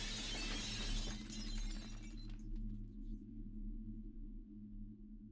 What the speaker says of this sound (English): The sound of it shattering finally shook me out of my trance.